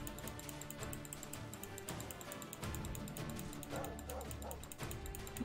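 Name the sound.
dog barking in Adventure of Dirwin video game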